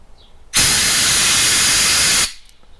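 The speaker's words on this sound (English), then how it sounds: "Now I'm going to take my air compressor and I'm going to blow through here" An air compressor nozzle blows air through a Honda engine part. It gives a single loud, close hiss that lasts just under two seconds, with a sharp start and stop.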